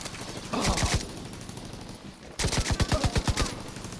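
Rapid automatic gunfire from a deployed turret in Tom Clancy's The Division 2, two loud close bursts of quick repeated shots separated by a short lull.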